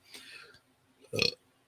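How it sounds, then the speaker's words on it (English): A single loud burp rises sharply and fades within a fraction of a second, following a stretch of soft, breathy noise. "Burping here."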